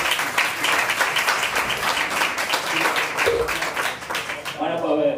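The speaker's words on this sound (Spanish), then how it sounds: "Dale un aplauso para que lo disfrute" Audience applause for a speaker at a Spanish-language talk, a dense steady wash of clapping from a room full of people, sustained and fairly loud throughout before tapering near the end.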